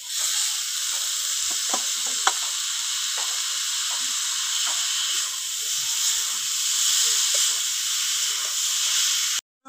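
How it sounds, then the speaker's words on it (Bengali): Boiled banana flower hits a hot pan for a moong dal mocha ghonto, giving a loud steady sizzle with scattered stirring scrapes and clicks underneath. "এবার দিয়ে দেবো সেদ্ধ করা মোচাটা।"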